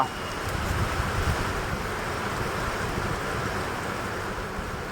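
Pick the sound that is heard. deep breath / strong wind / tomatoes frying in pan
strong wind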